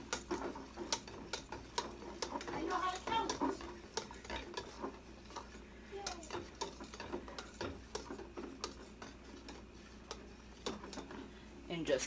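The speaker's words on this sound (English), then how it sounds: "And just keep whisking until the mixture becomes thick" A whisk scraping and clicking through custard mixture in a pan on the stove, giving quiet, rapid irregular ticks and stirring swishes that go on steadily throughout, with soft talking over them.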